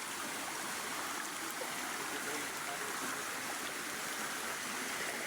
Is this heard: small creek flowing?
yes